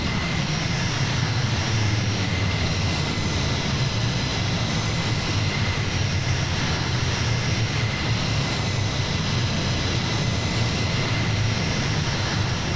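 Boeing C-17 Globemaster jet engines at takeoff power during a climb-out after rotation with gear up, in Microsoft Flight Simulator: a loud, steady, unbroken roar with a deep rumble that holds evenly throughout, with no talk.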